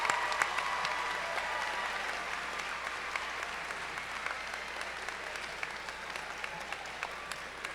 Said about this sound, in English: Let's hear a round of applause for all these folks who came out to support you.